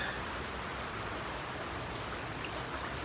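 Gusty heavy rain pours down during a typhoon in the Philippines with a constant hiss, broadband and unbroken throughout, with no voices.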